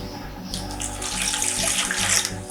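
Milk mixed with warm water poured into bread dough, a close, steady splashing pour that grows slightly fuller as it goes, with no one talking.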